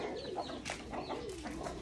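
Chickens clucking softly in a pigeon loft damaged by a strong typhoon, a steady mix of close bird calls and low murmurs continuing throughout without speech.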